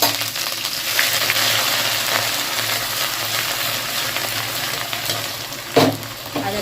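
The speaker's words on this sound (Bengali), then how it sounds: "এবার একে একে দিয়ে দেবো তেলের মধ্যে ফোড়ন। দিয়ে দিলাম 5 ফোড়ন, 3টে শুকনো লঙ্কা" Whole spices, dry red chilies and bay leaves fry in hot oil as the tempering for Bengali khichuri, a steady close sizzle with a sharp clink near the end.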